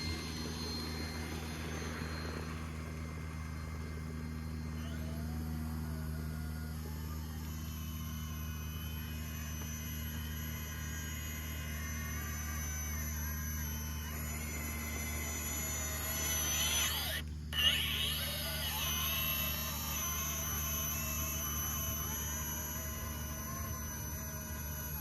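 Two radio-controlled trucks, a Traxxas TRX4 and a heavier 18-pound six-wheel TRX6, locked in a tug-of-war, their electric motors whining steadily as the tires spin, close and continuous for the whole stretch.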